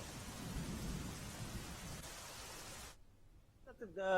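Heavy monsoon rain pours in a steady, dense roar during flooding in Navsari, stops abruptly after about three seconds, and a voice starts speaking just as it ends.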